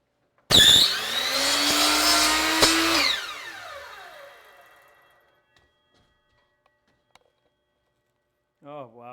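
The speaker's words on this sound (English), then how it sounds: "So I'll use the chop saw." A chop saw slices through a piece of wood in one loud cut lasting a few seconds, the motor whine then winding down and fading out, followed by a brief moment of speech at the end.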